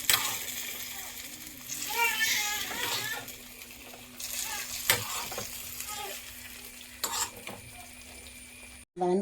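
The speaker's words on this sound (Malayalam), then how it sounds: "ഈ വറുത്ത് വെച്ച എല്ലാ സാധനങ്ങളും ഇതിലേക്ക് ഇടുക" Fried ingredients are tipped into a pot of pazham pradhaman, a banana payasam, with steady stirring scrapes and a soft sizzle throughout while someone talks over it.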